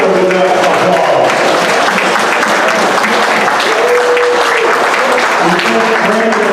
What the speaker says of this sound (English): we need to thank them louder with that applause